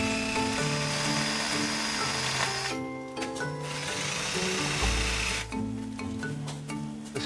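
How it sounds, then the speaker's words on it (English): A power drill whines and grinds in bursts, its pitch stepping up and down as it bores out a weld on a bolt, with brief pauses between runs. "I'm just going to try and drill the weld out of the way"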